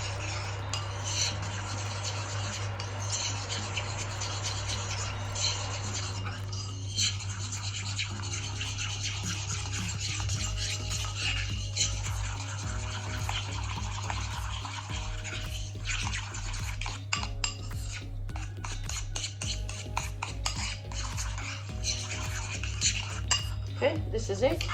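Silver luster being stirred into a thick cake decoration mixture in a bowl, steady close scraping and clinking of a utensil against the bowl, continuous with small taps.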